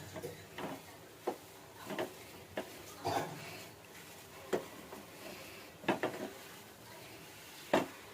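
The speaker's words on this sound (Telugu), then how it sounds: "నేను ఇలా కలబెడుతున్నాను" A spoon stirs a coconut laddu mixture with ghee in a pan, making intermittent scraping knocks and clinks, about eight separate strokes, close and moderately soft against a quiet background.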